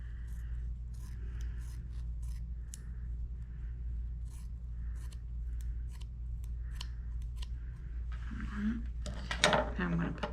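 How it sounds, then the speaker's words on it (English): Scissors snipping craft material for a witch hat wreath, a series of quiet crisp cuts spaced irregularly, followed by louder rustling and scraping of the material near the end. "and actually I'm going to cut it"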